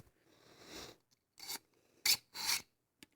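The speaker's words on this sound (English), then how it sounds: "You just put the knife in, pull it through, pull it out." A knife pulled through a carbide knife sharpener makes four separate close rasping strokes, the first long and soft and the last two short, sharp and louder, with quiet gaps between and no talk.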